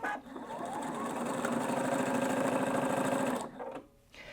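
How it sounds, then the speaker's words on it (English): A Husqvarna Viking Brilliance 75Q sewing machine, started by its button with the foot and needle raised, runs in one steady, close whirring burst for about three seconds, then stops. "I can press that button and the machine will sew for me"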